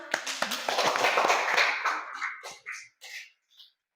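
A classroom group claps for a student team's presentation in an Islamic studies lesson, a dense burst of many hands that thins out into a few scattered final claps.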